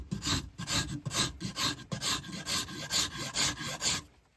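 A hand scraper shaves wood along the grain in a workshop, with repeated rhythmic rasping strokes, about a dozen close, even passes in quick succession.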